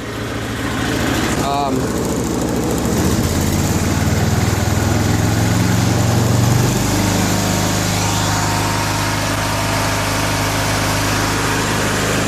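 A John Deere garden tractor engine runs loud and close, holding a steady, continuous drone with a brief shift in pitch partway through.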